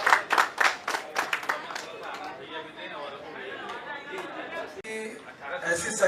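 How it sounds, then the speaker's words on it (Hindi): A burst of clapping from an audience at an Indian awards ceremony, applauding a doctor, lasts about two seconds before fading into a steady murmur of crowd chatter and voices. "गुजारिश करूंगा डॉक्टर साहब के लिए एक जोरदार तालियां"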